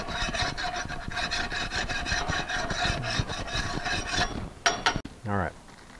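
Residue is scraped off a hot grill while a breakfast sandwich is cooked: a run of quick, rhythmic rasping strokes close by, ending in a few sharper clanks and a brief scrape.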